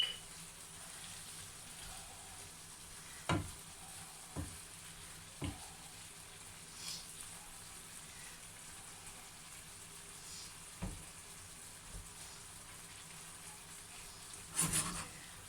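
Marinated pork steak with Chinese seasoning frying in a pan, giving a constant soft sizzle with occasional sharper pops and spatters, close and moderately quiet, with no talking.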